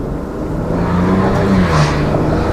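A Maserati Ghibli engine hums and gently rises in pitch as it pulls along, heard through an open window, a steady mid-level drone with faint road and wind noise.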